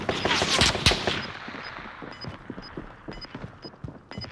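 Video game gunfire rings out in a fast burst of sharp automatic shots, followed by scattered lighter pops and footstep-like clatter under faint voices.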